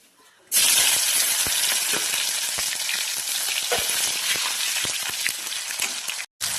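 Tomato drops into hot oil seasoned with cumin and bay leaf, setting off an abrupt, loud sizzle that crackles steadily for several seconds before cutting off briefly near the end.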